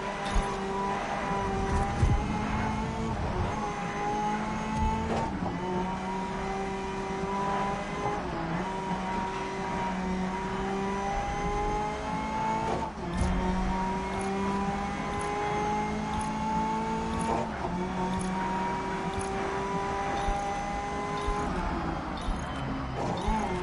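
A race car in the GRID Legends racing game on PS5, heard from the cockpit: a sustained, muffled engine drone rises and falls through gear changes, with occasional tire noise and no speech.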